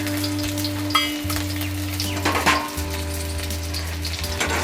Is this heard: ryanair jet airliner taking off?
no